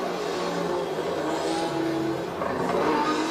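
1982 Formula 1 cars racing around the Detroit Grand Prix street circuit, their engines holding a continuous loud, droning whine that rises and shifts in pitch as the cars accelerate and pass.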